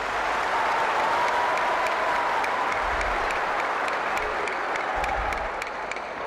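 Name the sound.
applause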